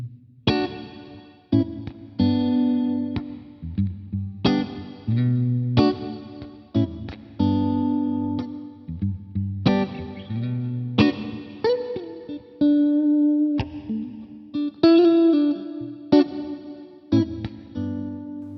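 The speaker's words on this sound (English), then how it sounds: "Okay, very nice subtle reverb." Electric guitar chords and single notes played in short phrases through a Jet Pedals Revelation Reverb pedal on a subtle setting, each ringing out with a light reverb tail that fades quickly into the next strum.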